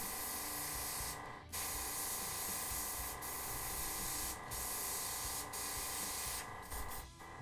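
GAAHLERI GHAD68 airbrush sprays a steady close hiss to clear out gunk, with a few brief breaks and slight sputters in the airflow, and no voices.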